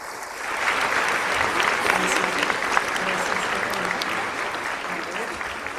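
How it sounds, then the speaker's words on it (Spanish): A university audience applauds an award presentation at an evening literary event, a loud, sustained crowd clapping that runs steadily throughout with faint voices beneath it. "Un fuerte aplauso, por favor."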